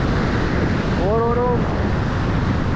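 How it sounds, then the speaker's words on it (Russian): Sea waves break on a beach in Turkey with a loud, continuous roar of surf and wind rush, and a voice briefly calls out in the middle. "Смотрите, на меня волна идет."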